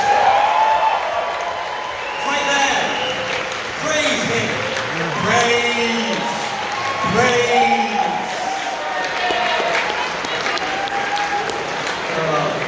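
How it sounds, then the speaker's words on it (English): A convention closing-ceremony audience gives a round of applause, moderate crowd clapping heard under and between a speaker's amplified voice and a short shouted word. "Please give them a round of applause."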